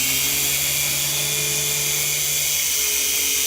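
A small beginner RC helicopter hovering, its rotor and motor giving a steady high-pitched whine with a low pulsing flutter underneath, continuous and close.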